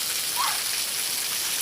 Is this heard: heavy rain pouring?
yes